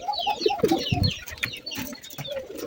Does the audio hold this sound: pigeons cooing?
yes